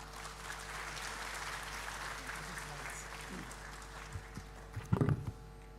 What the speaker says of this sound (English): May we welcome the Coordinating Dean with a warm round of applause.